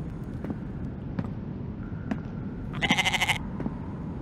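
A goat in the survival video game The Infected gives one short, bright, wavering bleat over a steady ambient background, with faint thuds before it.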